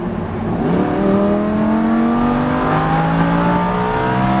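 A Lamborghini Huracán engine revs and accelerates steadily uphill on a racetrack, its pitch climbing smoothly over several seconds in a loud, sustained roar heard from inside or close by.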